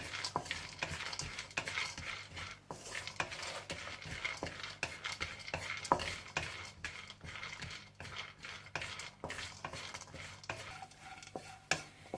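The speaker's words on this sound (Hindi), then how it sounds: "फिर इसी घी में आप हल्का सा किशमिश और चारे मगज को फ्राई करके निकाल लीजिएगा।" Quiet sizzling of raisins and melon seeds frying in ghee in a pan, with frequent light clinks and scrapes of a spoon stirring; steady and close, no voices.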